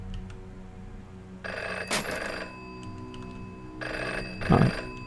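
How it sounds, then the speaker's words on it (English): A telephone rings in the horror video game Ghost Dance, bright tonal bursts repeating over a low ambient drone, with a sharp clatter in between. "This is a phone that I don't know where it is."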